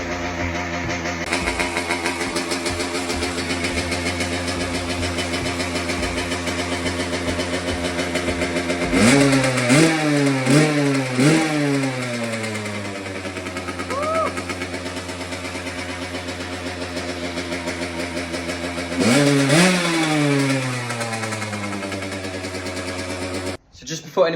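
A Kawasaki KX85 dirt bike, left sitting for months and running with its carburetor needing tuning, idles roughly up close, then blips through two bursts of sharp rising revs that fall back to a choppy idle.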